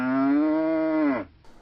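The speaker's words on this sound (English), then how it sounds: "Okay, cows." A single cow lets out one long, loud, close moo that drops in pitch and cuts off near the end, heard alone.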